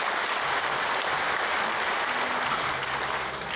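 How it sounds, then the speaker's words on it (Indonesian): Audience applause during a spiritual talk: a full, continuous wash of clapping from a seated crowd, steady and loud for the whole stretch, with no voices over it. "Tepuk tangan."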